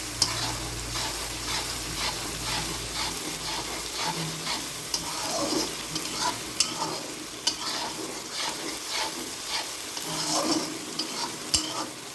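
Onions sizzle and crackle in a hot pan, with intermittent scraping clicks of stirring throughout.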